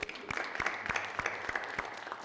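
Audience applause at a financial aid session on a cold Michigan night, a modest round of clapping from a smaller crowd with a few sharp, distinct claps standing out, fairly faint and distant.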